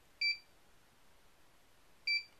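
Two short, sharp electronic beeps from a timer lock signal its remaining time, close and clear, spaced roughly two seconds apart with quiet between.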